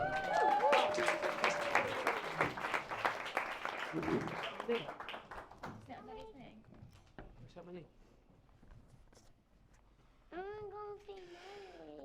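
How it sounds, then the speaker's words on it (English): Guests at a wedding reception give the best man a loud round of applause that dies down to scattered claps, followed by a voice and a few more claps and murmurs near the end. "Big round of applause."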